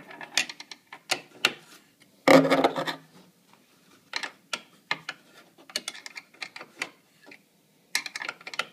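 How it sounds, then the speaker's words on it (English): Ratchet wrench turning a bolt while swapping washers on gear mounts, heard as bursts of close, crisp clicking spread across the clip with brief pauses, plus one louder clattering knock near the start. "Use the ratchet on that side."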